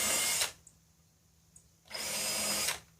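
A power drill fitted with a 1/8 inch bit drills shallow holes in a workshop, with two loud sustained bursts of whirring separated by a quiet pause.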